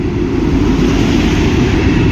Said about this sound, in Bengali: শ্বেতশুভ্র বন্দে ভারত আমাদের ঢুকছে ব্যারামপুরে এখন